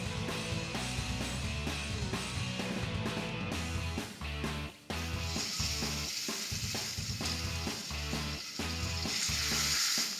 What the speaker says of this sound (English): our onions and our garlic are sitting on a nice low heat.